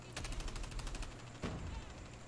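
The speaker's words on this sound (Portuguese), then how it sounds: "O Caldeira tá trocando um tiro ali com os meninos do Gavião." Gunfire rattles in a shooter video game match, a fast burst of rapid shots followed by a second short volley a moment later, loud against a steady background.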